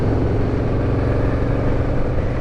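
A Yamaha VMAX muscle bike's engine drones loudly and steadily while riding at about 25 mph, a dense continuous rumble mixed with wind noise.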